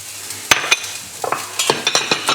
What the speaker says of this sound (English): you can hear it sizzling already